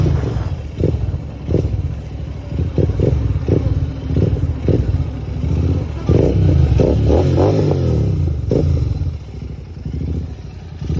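Motorcycle with an aftermarket exhaust ridden fast on a Sunday road ride, a steady loud rumbling drone with rising and falling rev surges and wind buffeting close to the mic, no talking.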